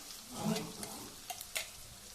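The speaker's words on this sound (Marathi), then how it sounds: "तेल गरम झालेलं आहे. तर तेलामध्ये आपल्याला सर्व मसाला टाकून घ्यायचा" Spices for egg curry sizzle in hot oil with a soft, steady frying hiss, broken by a few faint stirring clicks and scrapes.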